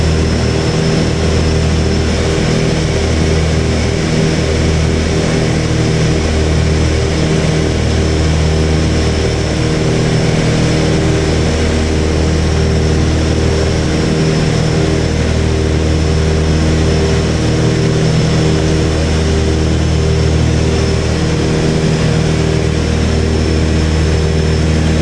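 A Piper Seneca twin-engine airplane drones in flight, a loud, constant propeller hum with steady pulsing tones heard from inside the cabin for the whole stretch, with no talk.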